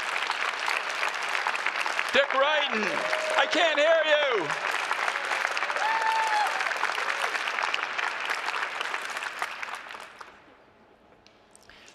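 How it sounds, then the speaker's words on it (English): Sustained audience applause for Dick Wrighton at a leadership summit, loud and steady for about ten seconds under a speaker's voice, then fading quickly to near quiet. "Let's give him a round of applause."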